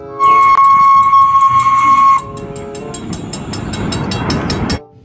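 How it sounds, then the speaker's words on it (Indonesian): A toy Thomas train gives a loud, steady steam whistle for about two seconds, then switches to a rhythmic chugging of rail clatter with regular puffs that fades out at the end. "Kereta Thomas, teman-teman."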